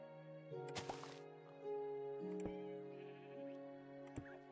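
A Minecraft sheep gives a few short bleats over sustained background tones, with a sharp burst of hissing noise and a couple of crisp clicks spread through the moment.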